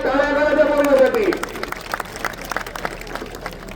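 At a kusti wrestling ground during the Bhairavnath yatra fair in Bhigwan, a crowd claps for a Railway Services wrestler. A loud voice calls out first, then scattered, uneven clapping follows with crowd noise.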